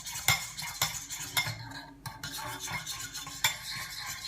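Homemade hand cream with shea butter being stirred in a pot, a utensil scraping and knocking against the metal in irregular strokes, close and clear, with no speech.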